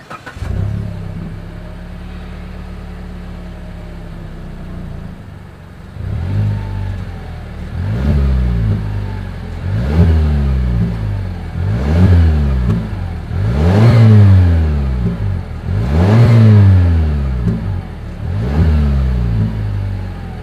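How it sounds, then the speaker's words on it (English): A 2020 Mazda CX-5 engine idles, then revs repeatedly in a rhythmic series of loud, close bursts, each rising and falling, with a steady exhaust rumble throughout. "here is that exhaust clip"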